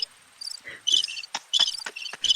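A man imitating crickets with his mouth, producing bursts of high, rhythmic chirps one after another, fairly close and with no talking.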